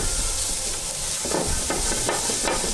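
Rice grains and finely chopped onions sizzle steadily in a hot pan while a utensil stirs them, the frying hiss loud and close with soft scraping strokes throughout.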